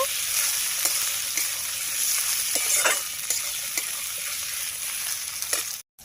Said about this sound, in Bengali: টমেটোর পরিমাণটা কিন্তু অনেকটা বেশি আছে ভালো করে কষিয়ে নেব